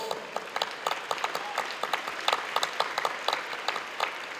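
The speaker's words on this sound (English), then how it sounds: "Give them a round of applause." Audience applause at a 140th anniversary dinner, steady fast clapping from many hands in a large room, sharp individual claps standing out above a dense wash of applause with faint crowd noise beneath.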